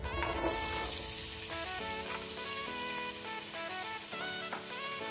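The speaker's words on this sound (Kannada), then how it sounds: "ಇದನ್ನು ಸಹ ನಾವು ಒಳ್ಳೆ ರೀತಿ ಫ್ರೈ ಮಾಡಬೇಕು ತುಪ್ಪದಲ್ಲಿ." Chopped carrot pieces from one large carrot frying in ghee for wedding-style ghee rice, a steady, loud sizzle that carries on unbroken throughout with no talking.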